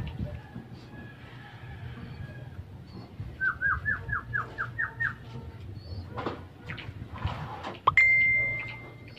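Racing pigeons flap and coo in a cage, with a quick run of bird calls in the middle, wing rustles and a sharp metallic clank near the end, all close by.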